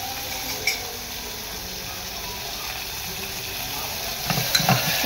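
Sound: stirring sambar vegetables in a pan with a spoon

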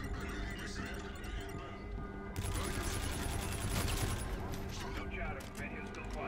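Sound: gunfire in Call of Duty Infinite Warfare, video game

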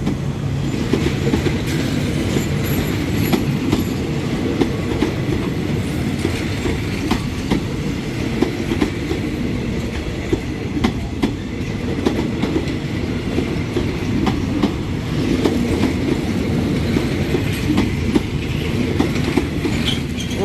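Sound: passing empty train for military cadets at Bang Sue curve

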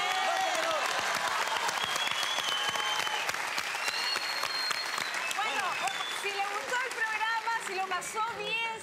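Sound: audience applause for a family on a TV show

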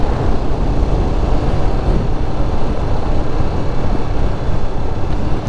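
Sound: Zontes V310 motorcycle riding at 45 km/h in fifth gear

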